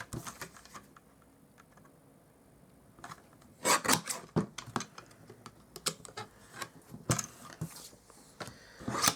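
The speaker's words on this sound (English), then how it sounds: "So I'll just use my guillotine," A paper guillotine trimmer cutting card, heard as sharp close clicks and slicing scrapes in irregular bursts after a quieter opening, with no talking.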